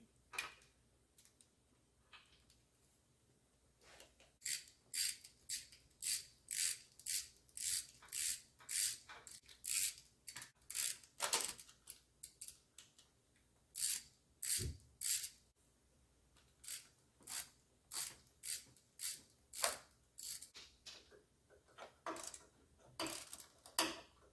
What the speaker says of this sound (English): We are going to be taking off the 8 bolts that hold down your PVC valve housing.